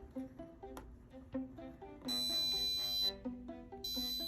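Adaptive alarm clock built as a student capstone project, sounding a repeated electronic tone pattern at moderate distance, its volume dipping and then rising again as a knob is turned, with no talking.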